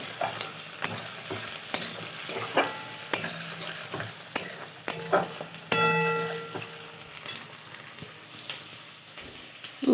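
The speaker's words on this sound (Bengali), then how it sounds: "কেটে রাখা টমেটোটা ভেজে নিচ্ছি একটুখানি" Chopped tomato sizzles in a pan while being stirred for egg chow mein, with steady frying hiss, rhythmic spatula scrapes and a brief ringing metallic clang midway, no talking.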